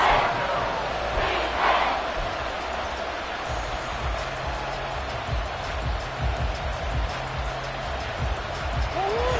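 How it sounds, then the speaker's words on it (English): A stadium crowd in Madden NFL 24 builds into a steady roar of cheering ahead of a big third down, continuous and broad throughout, with play-by-play commentary over it. "The crowd getting into it as we come up on a big 3rd down."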